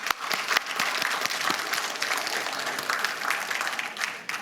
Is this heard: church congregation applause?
yes